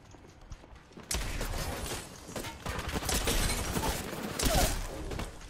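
Gunfire in a battle royale video game: dense, continuous bursts of shots and clattering action starting after a quiet second and running to the end, loud and busy with a sharper swell near the close.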